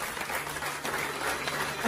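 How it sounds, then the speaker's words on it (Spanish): A church congregation applauds in a continuous, dense wash of clapping, loud and sustained, with no speech standing out. "Alguien que le aplaude al Señor."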